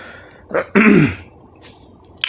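A single rough cough followed by a throaty clearing, close and fairly loud, then quiet room tone.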